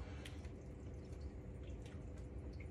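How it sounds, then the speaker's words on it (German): Water in a saltwater aquarium tank splashes and trickles softly and continuously, faint and alone with a low steady background hum. "es plätschert immer noch weiter, das ist mein Becken also."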